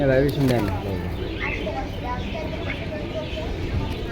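Pigeons cooing at a busy pigeon market in Jinjira bazaar, a low steady murmur of several birds running under loud nearby conversation among traders and buyers.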